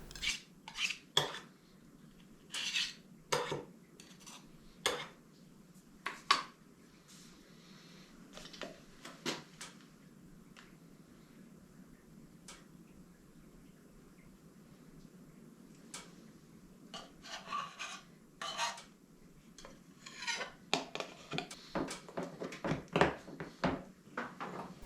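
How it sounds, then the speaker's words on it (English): Metal utensil stirring and clinking against a container of lacquer for a guitar body finish, with intermittent bursts of scraping and taps that pause midway, fairly quiet and close with no talk. "let's get some lacquer mixed up"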